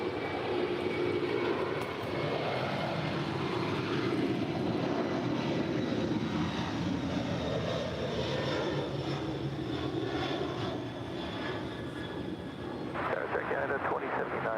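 A jet airliner passes overhead at Los Angeles International Airport with a steady, loud engine roar that lasts throughout. People talk underneath it the whole time.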